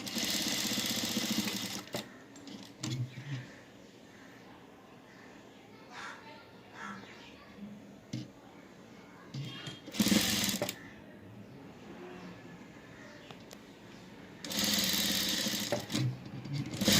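An electric sewing machine stitches fabric in several short whirring bursts, loud and close, with quieter pauses between runs. Someone speaks faintly in the background.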